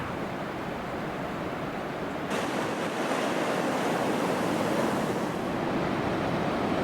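Ocean surf rolling in at Ruby Beach, a steady broadband roar of breaking waves with some wind, swelling slightly louder midway and continuing without pause.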